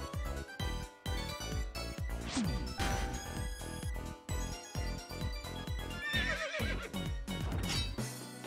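A horse neighs and whinnies in the video game OMORI amid clip-clop hoofbeats, crashes and whacking hits, a busy stretch of repeated sharp effects with rhythmic thuds.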